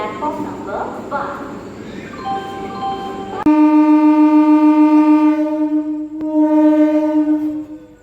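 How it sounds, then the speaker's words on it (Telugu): A MEMU train sounds a long loud horn while departing platform one at Bhimavaram Junction, the steady tone held for several seconds with a short break, after someone talks nearby. "తొమ్మిది పావుకు బయలుదేరవలసిన బండి మొత్తానికి తొమ్మిది ముప్పై ఐదు బయలుదేరిందండి భీమవరం జంక్షన్ ఒకటో నెంబర్ ప్లాట్ఫామ్ నుంచి"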